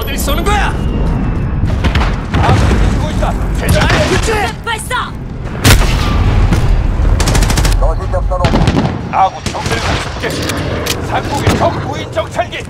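Gunfire in the video game Call of Duty Modern Warfare: loud bursts of automatic rifle fire and single shots, with heavy booms and thuds, keep rolling through the scene while a voice speaks over the shooting.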